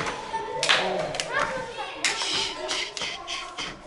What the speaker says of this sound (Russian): Одно отжимание, один хлопок.